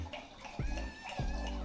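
Red wine pours into a cooking pot for a braised venison shoulder, a steady splashing, glugging stream with two deeper gulps as the flow surges, heard close up.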